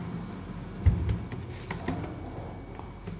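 Soft, steady keystrokes on a computer keyboard while typing text into Microsoft Word, fairly quiet and close, with occasional slightly louder taps.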